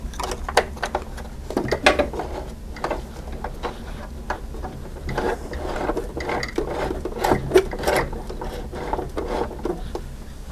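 A beginner sewing machine's needle mechanism turns to pick up the bobbin thread, producing a run of close, irregular mechanical clicks and ticks with soft metallic rattles, heard alone.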